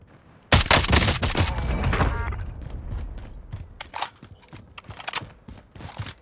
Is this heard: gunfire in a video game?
yes